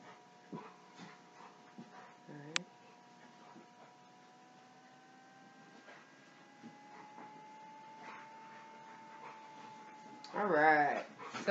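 Dogs whimper and whine faintly in the background with occasional short yips, then a louder whining burst near the end, all over a quiet indoor hum.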